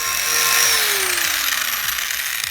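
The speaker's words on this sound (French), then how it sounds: "je fais du coup toute la jante avec ma meuleuse" An angle grinder sanding a car wheel rim: a loud, high, steady whine with a slowly falling tone and a gritty scraping texture, close and continuous throughout, with no talk.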